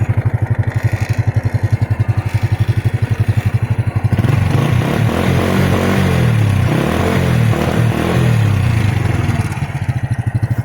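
Honda Wave 100 motorcycle engine running close and steady, with a pulsing idle that rises into a fuller, busier rev for several seconds before settling back to idle.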